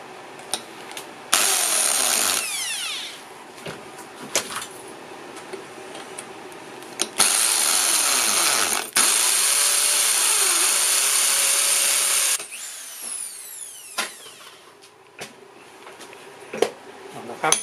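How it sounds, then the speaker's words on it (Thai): A hammer drill bores into concrete in loud sustained bursts of grinding, hammering noise, with quieter pauses and clatter between runs. "คราวนี้ใช้สว่านแบบเจาะกระแทกนะครับเจาะปูนนะ"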